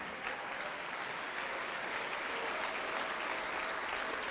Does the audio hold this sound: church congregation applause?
yes